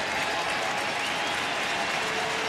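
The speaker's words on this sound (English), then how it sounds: "Brandon McCarthy should get a very nice ovation from this crowd tonight" A ballpark crowd at an Oakland Athletics home game against Detroit applauds pitcher Brandon McCarthy, the ovation a dense, sustained wash of clapping and cheering that stays loud and unbroken.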